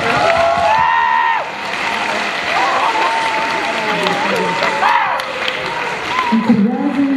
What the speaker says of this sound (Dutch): Een fantastisch dik applaus voor onze drie finalisten